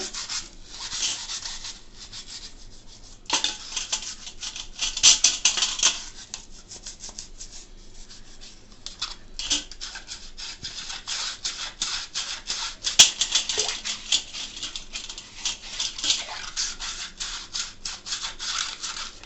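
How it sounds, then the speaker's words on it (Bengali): A plastic tea strainer scrubbed with a brush in cool water, giving a close, soft bristly scrubbing with irregular strokes and a few sharper knocks, no voices. "এবারে এই প্লাস্টিকের ছাঁকনি ডুবিয়ে দিলাম জলটা অনেকটা ঠান্ডা হয়ে গেছে এটাও ডুবিয়ে দিলাম এবারে এটা দিয়ে এই ব্রাশ দিয়ে"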